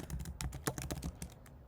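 Close, rapid clatter of keys on a computer keyboard as Java code is typed, an irregular burst of clicks with short pauses and no voices.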